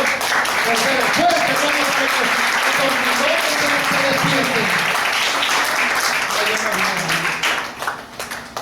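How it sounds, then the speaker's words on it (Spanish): A church congregation applauds loudly and steadily, with dense continuous clapping mixed with voices and cheers that tapers off near the end. "Dale un fuerte aplauso al Señor."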